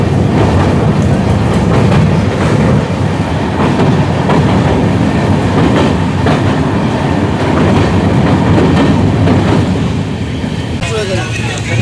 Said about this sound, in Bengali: বারসই জংশনে কিন্তু প্রবেশ করে গেল ট্রেন।